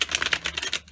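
Spirit Song Tarot cards shuffled in quick bursts, a rapid papery riffle of short crisp slaps close by, with no talking.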